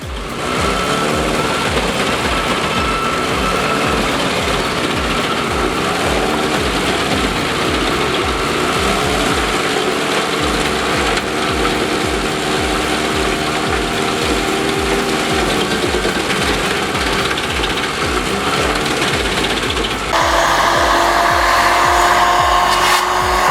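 A John Deere 753J logging machine runs at a firewood processing site, its engine a loud, continuous close drone with a pulsing rhythm early on, then a shift to a higher, harsher tone near the end; no voices.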